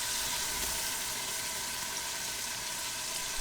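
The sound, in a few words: tomato puree frying with garlic, ginger and onion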